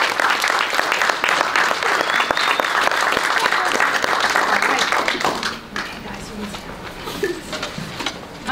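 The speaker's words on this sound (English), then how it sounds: "So if we could just give them a round of applause." An audience at an elementary school invention convention bursts into sustained applause, dense and loud. The clapping thins and fades toward the end.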